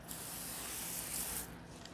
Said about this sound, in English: Spray this down nicely. Get the hood.